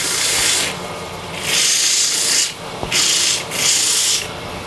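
A sanding mandrel spinning in a lathe chuck turns away coconut husk, giving loud abrasive rubbing in sustained bursts that surge and drop with short pauses between passes.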